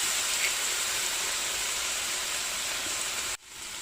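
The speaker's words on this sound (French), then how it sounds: "petit déglaçage au vinaigre balsamique," A hot pan sizzles and hisses loudly and steadily for a few seconds as balsamic vinegar deglazes it, then the sound cuts off abruptly, leaving a quieter hiss.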